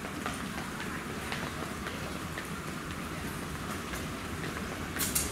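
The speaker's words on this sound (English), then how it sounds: "There's the train." An airport train rumbles steadily nearby with continuous wheel and rail noise, a constant mechanical roar with brief higher hisses.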